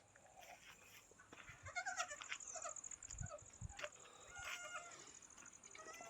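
Three newborn goat kids bleating in short, repeated high calls that overlap now and then, fairly faint, with other farm fowl sounding in the background and no talking.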